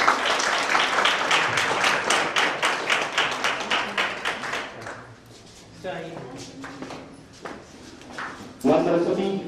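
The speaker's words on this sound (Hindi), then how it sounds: "कृपया जोरदार ताली से कार्यक्रम की शुरुआत कीजिए।" A workshop audience in a college computer science department claps to open the event, a dense run of rapid hand claps fading after a few seconds into scattered taps and a voice.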